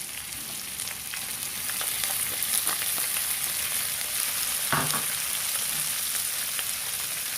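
Mixed vegetables frying in a pan with rice for beef fried rice give a steady, close sizzle throughout, with a few brief clinks or stirs near the middle and no talking.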